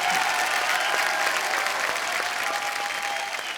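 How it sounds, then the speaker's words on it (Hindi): Studio audience applause on the set of The Kapil Sharma Show, a Hindi comedy talk show; a dense, loud, steady clapping from a large crowd fills the whole stretch without any speech over it. "तो एक बार जोरदार तालियां हो जाए पूरे खान परिवार के लिए"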